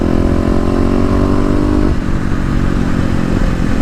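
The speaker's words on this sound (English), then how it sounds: "Upon first impression, the bike obviously accelerates a bit quicker." A Kawasaki KLX250 dirt bike fitted with a 13-tooth front sprocket accelerates hard, its loud, close engine droning steadily before the pitch shifts about halfway through as it keeps pulling.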